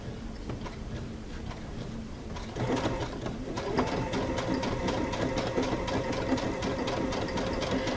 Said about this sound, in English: I'm going to sew my 1/4" seam